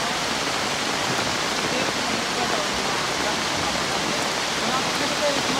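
Heavy rain and wind from Typhoon Kristine roar in a dense, steady wash of noise that fills the scene without a break, loud and close.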